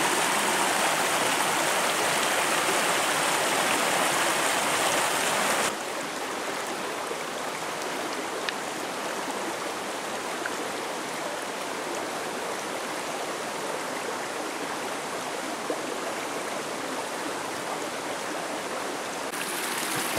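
A river flows steadily beside a riverside campsite, a continuous broadband rush of water that is louder for the first few seconds and then settles to a slightly softer, even flow, with no voices.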